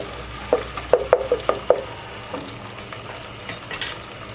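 Tomato puree sizzling and being stirred in a hot pan while cooking kadhi pakora, with a short cluster of soft scraping stirs over a steady low frying hiss that fades toward the end.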